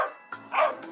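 Short dog barks in quick succession, a couple of sharp yappy bursts heard close and alone.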